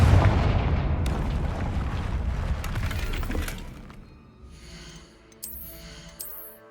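In Hogwarts Legacy, a Confringo fire spell explodes with a booming blast that rumbles and decays over a few seconds, followed by faint chiming magic effects.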